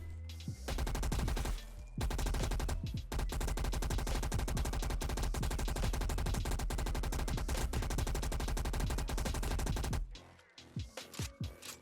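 A T9 LMG light machine gun fires in Black Ops 3 in long, loud automatic bursts of rapid shots with a brief pause near the start, then a few scattered single shots trailing off at the end.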